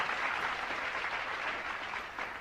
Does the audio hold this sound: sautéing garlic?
no